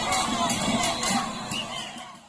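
Protesters in Camagüey, Cuba, shout together as a large street crowd, a dense roar of overlapping voices that stays loud and steady throughout.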